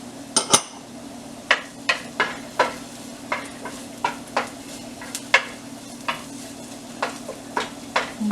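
Garlic browns in a pan while a utensil stirs it, with regular scraping clinks roughly every half second over a steady low sizzle and hum, close and moderately loud, no talking.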